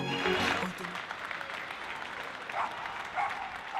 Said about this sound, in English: they took to their balconies to applaud frontline workers